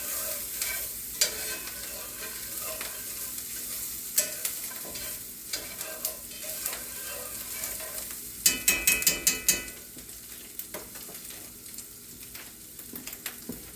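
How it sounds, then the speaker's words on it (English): Food is stirred in a frying pan, with scattered scrapes and taps and a quick burst of clatter midway, all over a low sizzle. "Let me give this a stir over here."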